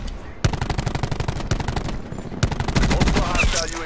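Rapid automatic gunfire in Call of Duty Black Ops 4, loud close bursts of evenly spaced shots broken by brief pauses, with a faint voice underneath.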